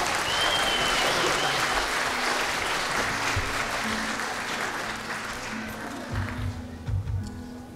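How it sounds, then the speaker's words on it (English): Audience applause at a church Christmas concert, a dense sustained wash of clapping from a large crowd that tapers off toward the end as a few scattered claps and murmurs remain. "Give them a big round of applause."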